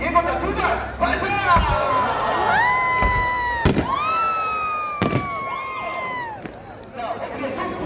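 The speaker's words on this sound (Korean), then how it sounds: "예고탄 2발 발사!" Two warning firework shells launched at a fireworks show at Gimpo Hyundai Outlet, heard as sharp bursts over a cheering, shouting crowd, with an announcer's voice talking throughout.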